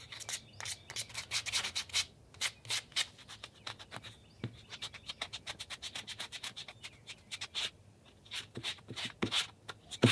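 A flexible sculpted figure with a slightly gummy surface is sanded by hand, giving steady, close rubbing strokes in a quick, uneven rhythm that lasts throughout with brief pauses.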